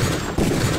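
Crate blowing up in Deus Ex, a loud, dense burst of explosive noise with a short rumbling tail and a second swell, heard alone without talk.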